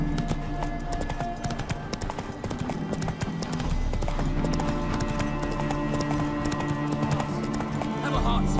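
Hooves of Roach, the horse in The Witcher 3: Wild Hunt, clip-clopping at a fast gallop in a steady rhythm under game music, with voices talking over it.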